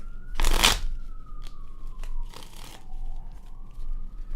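A brief burst of card shuffling riffles near the start, followed by a softer second riffle, over a faint steady tone and low background hum.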